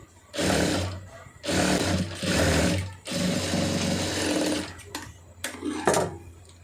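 Sewing machine stitching a blouse, whirring in several sustained runs of a few seconds each with short pauses between them, close and loud, with no talking.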